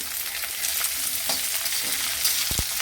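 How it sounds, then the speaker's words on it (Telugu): Onions and curry leaves fry in a pan with a steady close sizzle and hiss, broken by a couple of soft stirring scrapes and a brief knock near the end, with no voices. "కొంచెం ఆనియన్ ఫ్రై కావాలండి కొద్దిగా."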